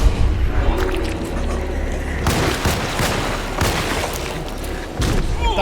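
Gunfire in the video game Alone in the Dark, several rapid loud shots and booming bursts with reverberant tails, mixed with game ambience and a low voice.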